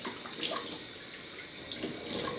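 Cold tap water runs steadily in a soft, hissing stream, fairly close and moderately quiet, with no voices.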